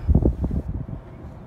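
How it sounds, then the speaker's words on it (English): Wind gusting into a microphone at Hoover Dam, a loud low rumble in the first half that eases off into quieter buffeting. "Sorry about the wind."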